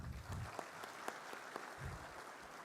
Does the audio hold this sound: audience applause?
yes